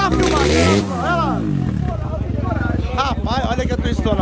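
A Honda Twister motorcycle fitted with an F800 piston and a large Dory exhaust revs hard in a motorcycle workshop. The engine throbs loudly and close by, climbing and falling in pitch through repeated throttle blips, with voices talking over it.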